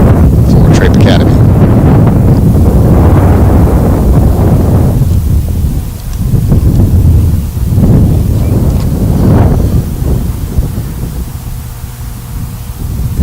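Wind blowing across an outdoor high school boys' soccer field, loud buffeting gusts rumbling against the microphone, surging and easing over several seconds with faint commentary beneath.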